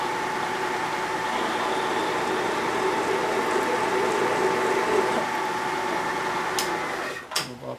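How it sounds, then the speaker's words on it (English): A drill press hums steadily at low speed with a low mechanical drone, close and constant, while a large bit lightly chamfers a hole in steel plate before the motor winds down. "So I just come down and lightly chamfer with a big drill."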